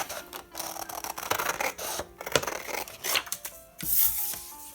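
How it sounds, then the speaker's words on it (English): Scissors cut out printed paper for Halloween countdown pockets, giving close, irregular snipping and rustling with short pauses and a brief paper crinkle near the end. "Let's cut this out."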